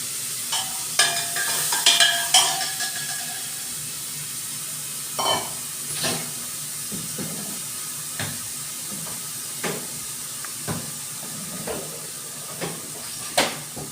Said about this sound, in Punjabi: ਇੱਥੇ ਆਪਾਂ ਲੱਗੇ ਸੀਗੇ ਤੜਕਾ ਲਗਾਉਣ ਵਾਸਤੇ